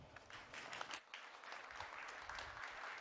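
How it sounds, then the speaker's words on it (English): An audience at a marketing conference applauds as a speaker is welcomed onto the stage, with dense, sustained clapping that sounds fairly distant and soft. "Big applause for Dimitri."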